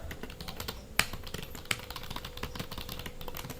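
Steady, fairly quiet typing on an HP 350 wireless keyboard, a continuous stream of soft key clicks with a couple of sharper, louder keystrokes, heard alone and close up.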